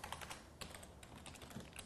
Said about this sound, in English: And then you can type your message here.